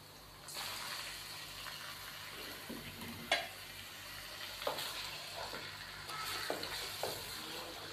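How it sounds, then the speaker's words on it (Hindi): Chicken frying in ginger garlic paste and onions in a pan, a steady sizzle with occasional stirring scrapes and clinks, close and moderately loud, no talking. "चिकन को हम 4 से 5 मिनट तक अदरक लहसुन के पेस्ट और प्याज के अंदर ही भून लेते हैं"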